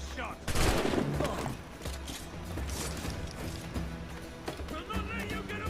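Gunfire in Assassin's Creed IV Black Flag, a burst of shots around the first second followed by scattered cracks over busy game sounds, with voices talking throughout.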